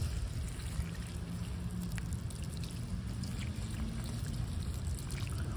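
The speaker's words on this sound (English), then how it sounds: "Alright, let's give you some water." Water pours steadily onto a potted plant, a soft continuous trickle and splash with a low hum underneath and no talking.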